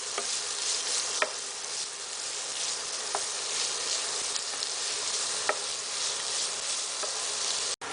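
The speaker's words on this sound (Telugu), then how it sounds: "హీట్ అయిన తర్వాత అందులో ఉల్లిపాయ ముక్కలు, పచ్చిమిర్చి, కరివేపాకు వేసి బాగా వేసుకోవాలి" Onion pieces, green chilies and curry leaves sizzle in hot oil for chicken curry, a steady dense crackling hiss with a few sharper pops, close and loud, with no talking.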